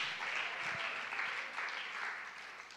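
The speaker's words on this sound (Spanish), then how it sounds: "Dale un aplauso fuerte a Jesús." A church congregation applauding during a Spanish-language sermon. Steady, fairly faint clapping from many hands that swells slightly and then fades over a few seconds.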